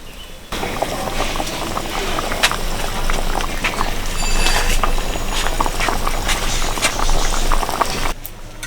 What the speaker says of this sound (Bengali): ঝোল খুব ভালো করে ফুটে গেছে,